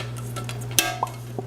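Metal detachable pie pan snapped together for a key lime pie, one sharp click followed by a couple of lighter metallic ticks, close and alone over a steady hum.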